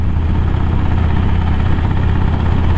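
A motorcycle engine idles with a steady, loud low rumble and constant vibration, unbroken from start to finish with no other sounds.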